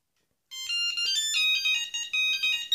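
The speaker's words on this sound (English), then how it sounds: "That's all the ringtones, 15 in total." Siemens C10 mobile phone ringtone playing alone: a bright, polyphonic-free electronic melody of rapid high beeping notes that repeats steadily for over two seconds after a short silence, loud and close with no talking.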